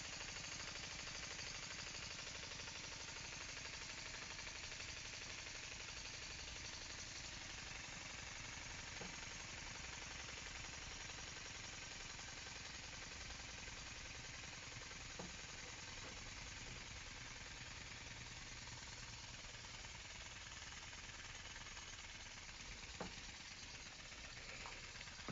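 A LEGO Technic pneumatic engine running steadily, a dense continuous mechanical chatter and air hiss at constant level, with a few faint clicks standing out.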